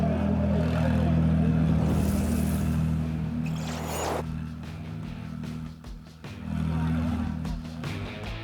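Ferrari Challenge Pirelli Australasia race cars at Mount Panorama make a loud, sustained engine drone with a steady harmonic hum. A brief whooshing rush sounds near the middle, and the engine note holds throughout.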